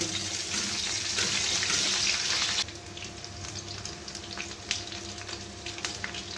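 Capsicum frying in hot oil for fish chilli, a loud steady broadband sizzle for the first half that drops to a quieter hiss with faint ticks, with no talking.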